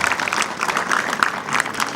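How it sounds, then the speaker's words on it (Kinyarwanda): An audience claps together at a school celebration for G.S. Marie Reine Rwaza in 2025, producing dense, sustained applause with scattered sharp claps at an even level throughout. "Mumfashe tubahe amashyi menshi cyane."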